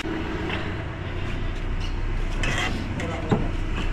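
A Toyota Corolla with a 2E engine, overhauled a year earlier and now smoking from worn valve seals, idles steadily at close range with a low, even rumble and some wind noise over the microphone.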